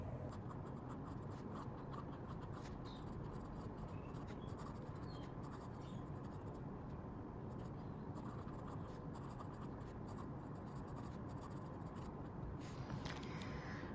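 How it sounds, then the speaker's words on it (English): Extra fine nib of a Visconti Homo Sapiens fountain pen scratches steadily across paper, a faint continuous dry writing sound heard close up, with no voices. "I'm gonna show you how this writes"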